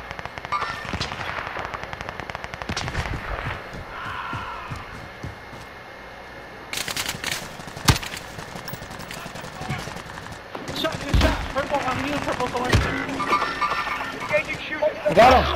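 Rapid automatic gunfire bursts and single shots from Call of Duty: Modern Warfare, loud and close, repeating across the clip amid busy game effects and overlapping players' voices.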